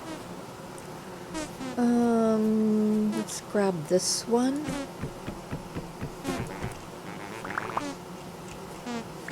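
Bees buzzing in the Vintage Story video game, a close, loud, steady drone heard intermittently behind a person talking briefly and assorted game sounds.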